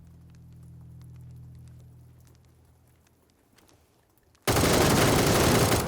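Gunfire in the online shooter game PUBG bursts in suddenly after several seconds of low hum, a loud, dense, sustained volley that fills the last stretch of the moment.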